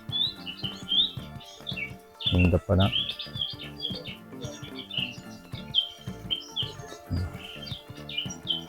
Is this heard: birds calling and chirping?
yes